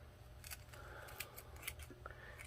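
Scissors snip black nightshade stems for making tea, giving soft, quiet, close-up cuts scattered over a low background hum.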